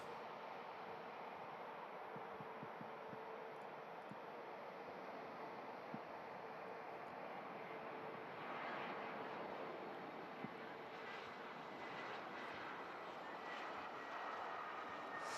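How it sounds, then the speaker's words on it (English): An Airbus A319 arriving from London Heathrow lands at Manchester Airport, its engine roar a steady, fairly distant broadband rumble that swells slightly midway and holds to the end, with no talk over it. "There's the Airbus A319 from London Heathrow."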